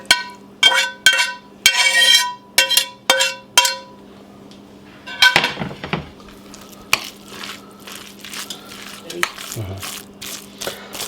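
A beef mixture is folded into a cheese mixture for stuffed shells: a spoon raps and clinks sharply against a bowl several times, then softer squishy stirring continues close by.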